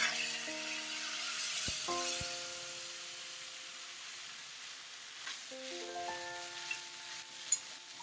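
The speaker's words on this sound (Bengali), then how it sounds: "তেজপাতা শুকনোটা দিয়ে দিলাম ফোড়নে জিরে দিলাম লঙ্কা আদা টমেটো ছেড়ে দিলাম" Bay leaf, cumin, chili, ginger and tomato sizzle in hot tempering oil. The hiss is soft and steady, fairly faint, with a few sustained tonal notes over it and some small pops near the end.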